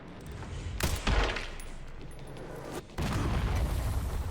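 Gunfire in Resident Evil 9, close, loud shots and bursts over a rumbling low background, with a sharp cutoff and renewed heavy firing toward the end.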